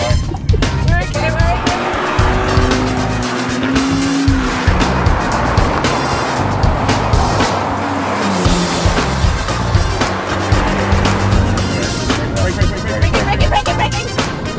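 A £500 race car brakes hard on a French track, its tyres squealing loudly over a steady roaring engine, with people talking through it.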